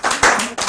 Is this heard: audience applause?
yes